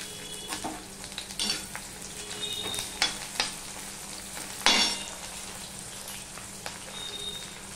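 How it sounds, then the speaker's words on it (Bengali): Sliced onion frying with black cumin in a hot pan, a steady soft sizzle broken by scraping stirs and a few sharper crackles, close and without talk. "কালো জিরাটা গন্ধ বেরিয়ে গেলে আমি এই পেঁয়াজটা দিয়ে দিলাম।"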